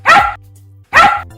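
Cartoon dog barking twice, two loud close barks about a second apart with a quiet pause between, no talk.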